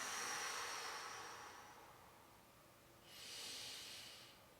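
Slow, airy breathing during a yoga twist, a long drawn-out inhale fading into a quieter exhale and then a second breath rising again, close and soft with no talking.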